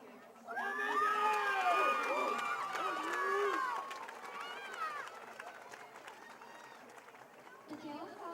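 A crowd at a high school football game between Foothill and De La Salle cheers a spirit award winner, with loud whoops and shouting for about three seconds before settling into scattered chatter.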